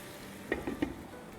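Kebabs simmering in sauce under a lid on medium-low heat give a soft, steady sizzle, broken by three light, quick knocks close together in the middle.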